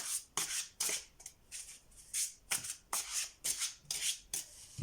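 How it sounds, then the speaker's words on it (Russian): Tarot cards shuffled and drawn in a series of about ten crisp riffling bursts with short pauses between, close and fairly quiet with no talking. "достанем 3 карты"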